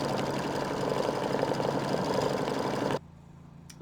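An embroidery machine stitches the word sweet in red thread with a fast, steady mechanical whir and rhythmic needle chatter, running alone for about three seconds before stopping abruptly.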